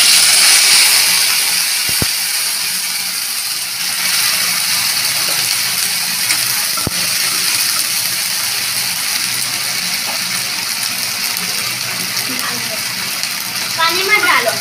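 Water poured into hot oil with frying ground spice paste for potato filling, a steady hissing sizzle with gushing water running throughout, close and fairly loud, a couple of sharp clicks along the way.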